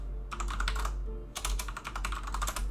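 A loud computer keyboard clacks under fast typing nearby: a short burst of keystrokes, a brief pause, then a longer, denser run of sharp clicks.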